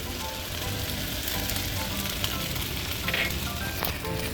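Chili frying in a wok while stir-fried tofu with minced meat cooks, a continuous soft sizzle with brief crackling spurts and a light scrape near the end, no voices.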